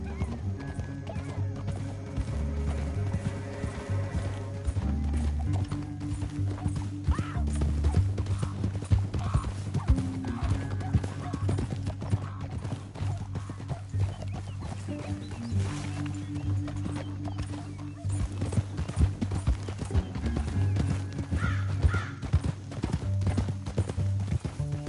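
Horse hooves clip-clop steadily on hard ground for a long stretch, with occasional whinnies among the rhythmic footfalls.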